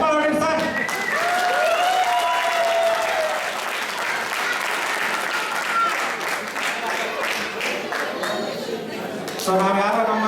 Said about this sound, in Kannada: ಚಪ್ಪಾಳೆ ಹೊಡಿ ಸರ್